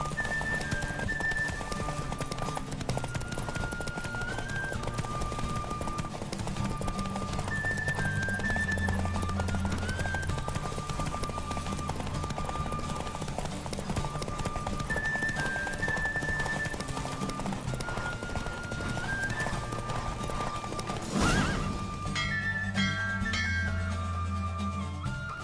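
A horse gallops in The Witcher 3 with steady rhythmic hoofbeats under a continuous game music score, a sharp clink near the end, and no speech.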